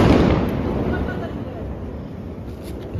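Diwali firecrackers bursting outdoors, one loud close blast that fades into rumbling echo, with voices nearby.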